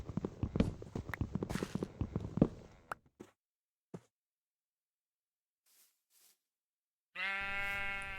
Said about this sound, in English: As I hear footsteps in the background, I think maybe a monster or something is approaching, but it's just a sheep.